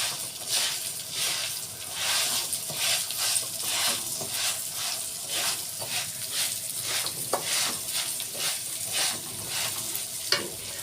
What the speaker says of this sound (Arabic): هحط الرز وهقلبه معاها كده